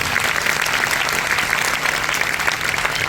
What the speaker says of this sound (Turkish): Alkışlayalım lütfen